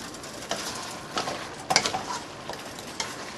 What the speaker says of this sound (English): And then we'll add our opal, our zucchini, to that. And then just stir this all together.